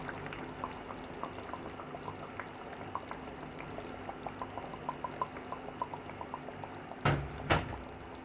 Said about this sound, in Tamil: நம்ம தேங்காய் பால் கொஞ்சம் ஊற்றலாம்.